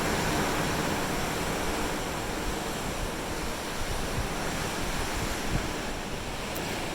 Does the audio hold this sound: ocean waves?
yes